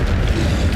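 Bombarda spell explosion in Hogwarts Legacy: a short, loud, booming blast with heavy low rumble filling the whole brief moment, no voices.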